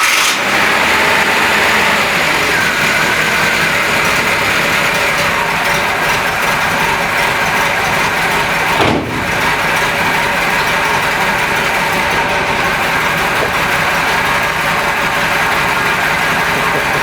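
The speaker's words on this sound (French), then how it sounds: "comme tu viens d'entendre, le moteur" A Renault Trafic van engine idles steadily up close, a constant mechanical rumble with a ticking, ratchety texture and a brief shift midway.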